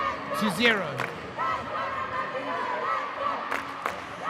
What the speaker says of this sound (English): the Namibian crowd is trying to bring their team back into the game